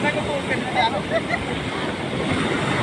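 Surf breaking along a beach, a steady broadband wash of water with wind buffeting the microphone throughout, loud and close, with voices faintly mixed in.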